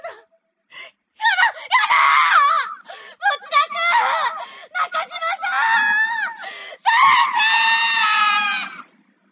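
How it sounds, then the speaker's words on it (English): A character in the video game Corpse Party: Blood Drive screams in a series of shrill, wavering cries that rise and fall over several seconds, loud and close, the last scream long and sustained. "Wait, why did you do this scream?"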